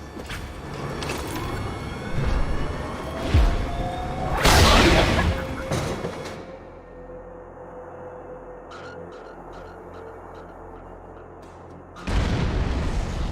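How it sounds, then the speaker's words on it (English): A cannon in the Borderlands 2 game fires several times as heavy, booming blasts. The loudest burst comes midway, and a crackling, rumbling tail and scattered game sounds follow. "Please fire the cannon again."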